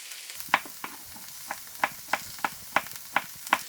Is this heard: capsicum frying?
yes